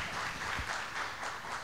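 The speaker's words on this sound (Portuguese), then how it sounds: "Peço mais uma salva de palmas para os colegas que saem." Quiet, steady applause from an audience at an architecture awards debate at the Museu da Casa Brasileira, heard from a distance as a soft, even patter of clapping for about two seconds.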